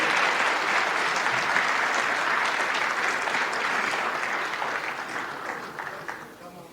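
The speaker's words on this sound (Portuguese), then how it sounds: "Palmas, por favor" A youth audience applauds at a presidential dialogue event in Bié province, a thick, sustained round of clapping that holds steady and then gradually fades out toward the end.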